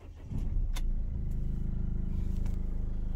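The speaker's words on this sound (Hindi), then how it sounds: "एक सेकंड मैं गाड़ी चालू कर लेता हूँ" A Ford car engine cranks and catches, settling into a steady close idle hum with a faint jingle of keys at the start.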